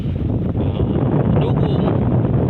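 Wind blowing beside the water in Gainza, Camarines Sur, buffeting the microphone with a steady low rumble while someone speaks.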